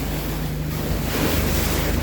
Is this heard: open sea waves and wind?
yes